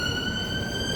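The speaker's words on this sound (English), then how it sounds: "there's a siren going" An emergency vehicle siren wails steadily on a Millwall street, a loud sustained tone over low traffic rumble.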